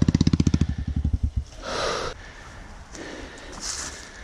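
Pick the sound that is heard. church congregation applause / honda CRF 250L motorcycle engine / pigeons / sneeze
honda CRF 250L motorcycle engine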